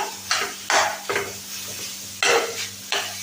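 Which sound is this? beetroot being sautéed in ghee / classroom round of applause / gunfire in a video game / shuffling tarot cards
beetroot being sautéed in ghee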